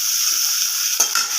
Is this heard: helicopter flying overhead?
no